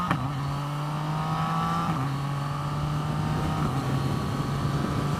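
A Yamaha FZ-09 motorcycle with a factory quickshifter accelerates under load, its engine note climbing and then dropping sharply at each clutchless upshift. Two or three shifts are heard in steady succession, close and loud, with no talking.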